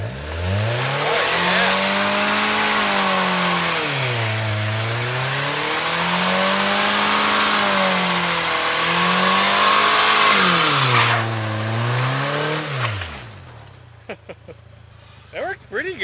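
A car engine revs hard during a Honda Civic versus Dodge Dakota burnout, rising and falling in long sweeps that hold a loud sustained drone, then cuts off to quieter crackles; voices are heard around it.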